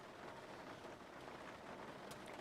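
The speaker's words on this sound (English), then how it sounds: "now it's raining on top of Linda" Simulated rain in the X-Plane flight simulator with the Zibo Mod 737 makes an even, soft wash of hiss that holds steady throughout, with a few faint brighter drop ticks near the end.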